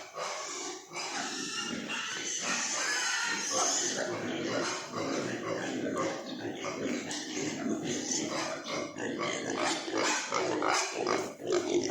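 Young pigs grunting and snuffling in a pen while looking for feed, a busy, continuous mix of overlapping grunts and squeals close by, with shuffling and noise throughout.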